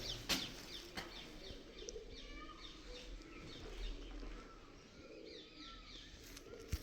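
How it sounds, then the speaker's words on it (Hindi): Pigeons cooing and fluttering among the ruined walls of Bhangarh fort, soft repeated coos and brief wing flaps over steady outdoor ambience. "सामने कबूतर लोग जो है मस्ती करते हुए"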